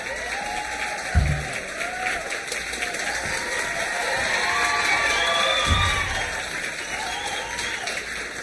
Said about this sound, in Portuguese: Uma salva de palmas para os nossos astros.